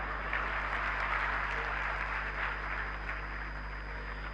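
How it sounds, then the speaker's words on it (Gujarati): Audience applause at a talk in Bhuj, a steady wash of many hands clapping at a distance, faint and even throughout, with a low electrical hum beneath and no voices standing out. "તમારા પોતાના માટે તાળીઓ પાડો એકવાર."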